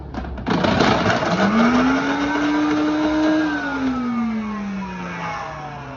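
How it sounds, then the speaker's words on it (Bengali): An electric blender whirs loud and close, spinning up to a steady strained motor whine that drifts downward in pitch as it mixes a strawberry mojito of 7 Up and ice. "হাফ ঢালার পর ব্লেন্ডার করবেন 5 সেকেন্ড মতন, বেশিক্ষণ না।"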